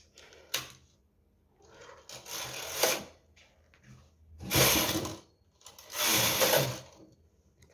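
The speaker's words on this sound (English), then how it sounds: "So I'm going to knit 2 rows." Rows of baby booties being knitted, heard as four separate bursts of close mechanical clattering and rasping, each about a second long, with quiet pauses between them.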